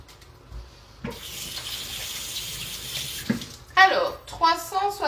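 Warm tap water runs into a plastic storage container holding a stock cube: a steady, close rush of flowing water, then splashy bursts and a brief voice near the end.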